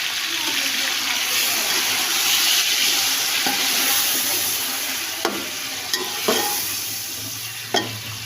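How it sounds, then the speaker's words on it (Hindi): Marinated chicken added to a pan of browned onions for biryani, a steady loud sizzle and frying hiss with stirring, broken by a few sharp clanks of a utensil against the pot near the end. "तो अब हम इसमें अपना चिकन शामिल करेंगे। मैरिनेट किया हुआ चिकन डालेंगे इसमें।"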